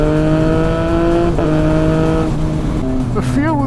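A 2020 Triumph Speed Triple RS motorcycle engine pulls hard and loud up close, a steady rising drone with brief dips between gear changes, with a voice speaking over it.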